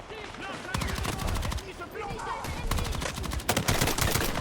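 Sustained automatic gunfire in the video game Battlefield 6, rapid bursts of shots rattling almost without pause and loud and dense throughout, with heavier clusters near the end.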